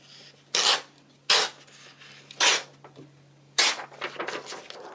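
Paper being trimmed for a floating book-page pocket: four separate rasping strokes of a blade or scissors along the edge, close and fairly loud against a quiet background with a faint hum.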